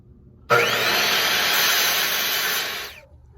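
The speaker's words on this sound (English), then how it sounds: "And then I'll take it over here to the miter saw." A miter saw spins up sharply and cuts through a wood board for a reptile enclosure, a loud, even whine lasting about two and a half seconds before tapering off as the blade winds down.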